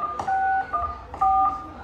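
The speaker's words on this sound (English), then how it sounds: "Use the keypad on your phone. Please key in the numbers of the patient ID." Telephone keypad tones as a patient ID is entered into an automated sexual health results phone line, a few short electronic beeps in quick succession, loud and close with no speech.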